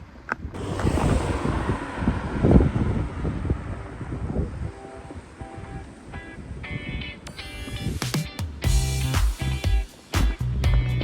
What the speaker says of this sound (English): Well, actually, it's quite windy, isn't it?